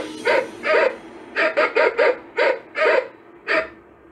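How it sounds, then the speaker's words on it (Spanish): A pet dog barks repeatedly at night after its owner hears an unseen voice: about eight sharp, close barks in uneven bursts, loud and with no talking. "no paraba de ladrar."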